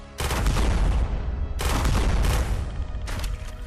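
Gunfire from a pistol in the VR shooter Quantum Threshold comes in three loud, sharp clusters of rapid shots, separated by brief pauses filled with lower rumbling.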